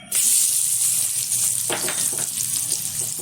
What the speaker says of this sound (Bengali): পেঁয়াজটা কিন্তু খুব ভালোভাবে ভেজে নিতে হবে।